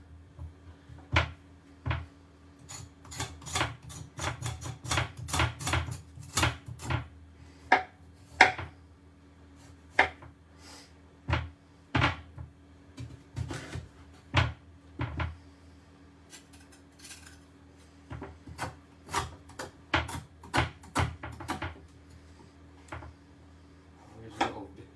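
A knife peels and trims boiled sweet potatoes on a kitchen board, giving sharp irregular taps and scrapes in bursts, some clustered, others spaced, close and clear with no voices.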